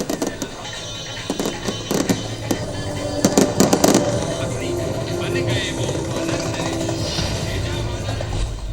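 Fireworks at Ayodhya Deepotsav 2024 crackle and pop in scattered bursts, a dense cluster of sharp bangs in the middle, over a steady background hum of crowd and engines.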